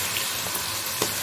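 Peas frying in a pan, cooked for a rice pilau, give a steady, soft sizzle throughout with a few faint pops and clinks of stirring.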